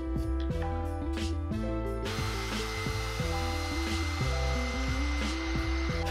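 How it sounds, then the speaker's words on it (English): A heat gun blows steadily on masking tape over a motorcycle helmet being prepared for a custom spray paint job, its continuous airy rush close and loud, with layered tonal hum and occasional rubbing handling noises throughout. "I'm gonna have to use a heat gun and kind of work some of these."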